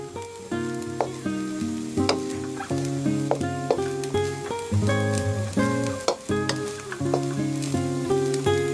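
Vegetables and Chinese sausage stir-fried with rice in a hot pan, a steady sizzle with occasional stirring scrapes running under prominent melodic background music throughout.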